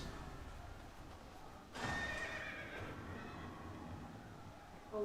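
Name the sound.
horse neighing in the video game Final Fantasy XIV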